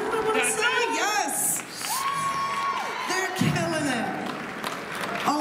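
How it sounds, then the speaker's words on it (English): Crowd at a cosplay contest claps, whoops and cheers for the hosts, a dense, lively wash of applause and shouts running throughout, with an amplified voice speaking over it. "Give a round of applause for your hosts."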